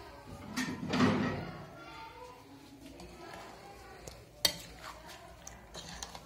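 Curd and spices are stirred into soy chaap in a bowl for deep-fried chaap, with soft scraping and clinking of a utensil under a man's speech, plus a sharp knock partway through.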